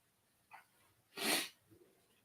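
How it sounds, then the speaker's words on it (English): A single loud, close sneeze bursts out mid-clip, preceded by a short sharp inhale and followed by faint breathing in a quiet room. "You take a break for sneezing."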